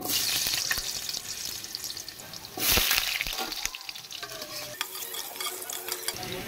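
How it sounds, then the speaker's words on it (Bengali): Potatoes sizzle and crackle in hot oil, a steady frying hiss with occasional stirring scrapes and a brief louder burst partway through. "এখন আমি আলুগুলোকে ভেজে নেব খুব সুন্দর করে।"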